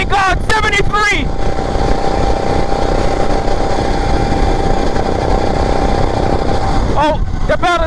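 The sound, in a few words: fast modified lawn mower engine at full throttle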